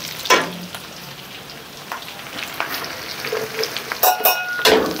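Pork, onion and carrots sauté in a hot pan, giving a steady close sizzle with occasional louder crackles and spatula stirring scrapes.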